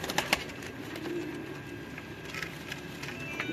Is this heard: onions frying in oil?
no